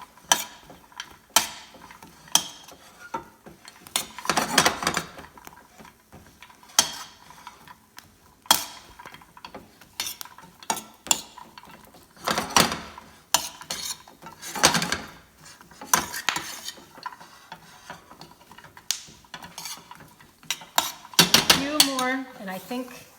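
Caramelized almonds flavored with lavender are stirred in a pan, giving a run of scattered scrapes, clinks and rattles at irregular intervals, close and fairly quiet, with brief pauses between strokes.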